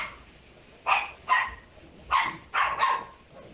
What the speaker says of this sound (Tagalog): Gagalit yung aso tuloy.